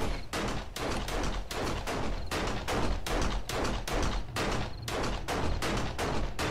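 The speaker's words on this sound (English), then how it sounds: "Who are you shooting at?" Rapid, sustained gunfire in the 7 Days to Die survival game, shots cracking at a steady rhythm of roughly two per second, loud and close throughout with no talk.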